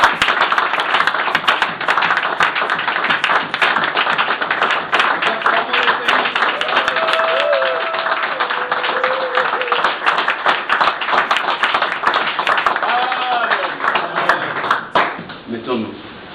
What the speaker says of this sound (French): Nous acclamons les Seigneurs.